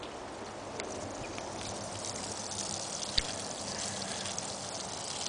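Rainwater collected from downspout pipes gushes steadily from a hose end as a continuous close splashing rush, broken by one brief knock partway through.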